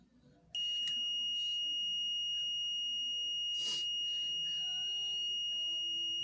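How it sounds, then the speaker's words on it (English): A buzzer on an SCR-aided fire alarm circuit switches on abruptly and holds a steady, piercing electronic tone, loud and continuous with a few faint background noises beneath it. "the buzzer will have an a output sound"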